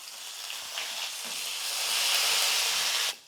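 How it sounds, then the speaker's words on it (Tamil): Dal, green chillies and curry leaves fry in oil in a pan for a sweet pongal, a loud, steady close sizzle and hiss that swells slightly before cutting off abruptly near the end, with no talking. "பருப்பு பச்சை மிளகா கருவேப்பிலெல்லாம் நல்லா வருந்துருச்சு"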